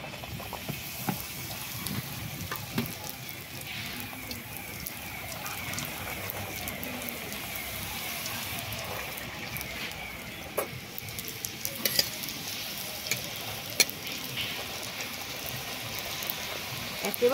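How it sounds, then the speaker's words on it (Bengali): Food fries in hot oil with a steady close sizzle and bubbling crackle, and scattered light clinks of a utensil stirring through it. "এদিকে তেলও গরম হয়ে গেছে, এবারে আমি দেব এই তেলের মধ্যে"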